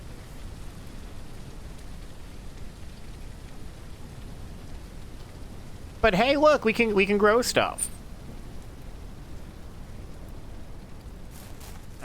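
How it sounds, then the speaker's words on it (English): Steady rain falls outdoors on a ranch, a constant soft hiss running through the whole stretch, with a person briefly talking over it midway. "the rain comes and the rain goes pretty quickly"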